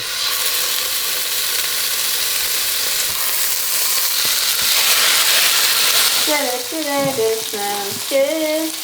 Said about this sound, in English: We are browning the meat off in batches so that we don't overcrowd the pan